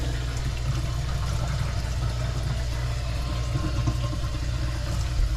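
Water runs from a bathroom sink through a drain with a newly fitted Oatey P-trap and 6-inch tailpiece extender, a steady close gurgling rush with a low rumbling undertone, constant throughout.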